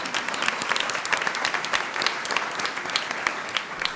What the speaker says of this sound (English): let's give him a round of applause anyway